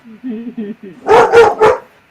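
A dog barks three times in quick succession, loud and close, right after a few short spoken words at a tabletop game session.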